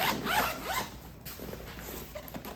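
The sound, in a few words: compression zipper on Tropicfeel packing cube being opened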